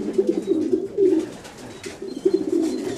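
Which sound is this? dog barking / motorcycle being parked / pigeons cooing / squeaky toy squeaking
pigeons cooing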